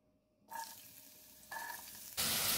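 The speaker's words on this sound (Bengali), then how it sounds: "লো ফ্লেমে হালকা ফ্রাই করে নিচ্ছি।" Potato pieces drop into a pan of hot oil over a low flame, bursts of loud sizzling frying that rise in steps and end in a strong, steady hiss with no talk.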